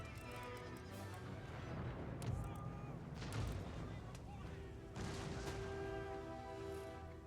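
Cannon fire from an Empire: Total War battle, a series of dull booming shots and rumbling volleys in the background, heard under a voice talking over the game.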